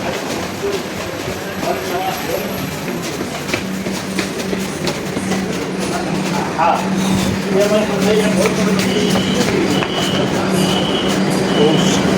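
A passenger train passes close by, giving a steady loud rumble of wheels on rails with clattering and faint squeals, while a person talks over it.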